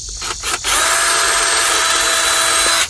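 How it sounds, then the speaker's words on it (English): Power drill boring with a larger bit during a DIY build of skates from soccer shoes, a steady loud whirring grind held for over two seconds after a few short bursts, close and alone. "switch out to a bigger drill bit"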